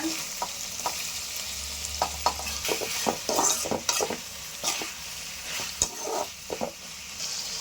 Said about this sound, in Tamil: தக்காளி நல்லா வதங்கிடுச்சு பாருங்க